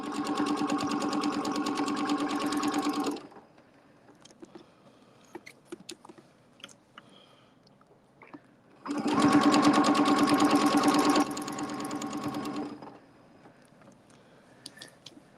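A sewing machine stitches a Valentine heart in two bursts, a steady rapid whir for about three seconds, then quiet handling clicks, then a longer run that slows slightly before stopping.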